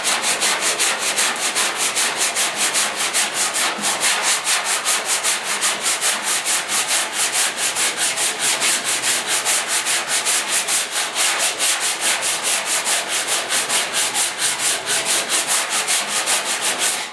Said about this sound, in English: we're going to keep sanding until we hit our indicator spots.